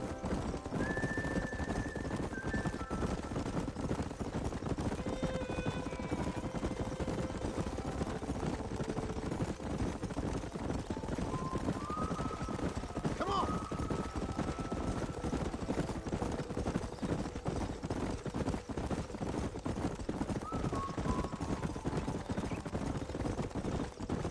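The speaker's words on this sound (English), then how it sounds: "There's the horses!" Horses in Red Dead Redemption, with a steady, rapid clip-clop of hooves running throughout and several drawn-out neighs and whinnies over the galloping rhythm.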